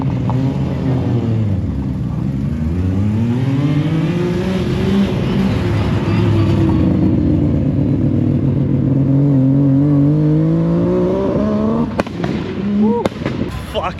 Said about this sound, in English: that Altezza sounds so good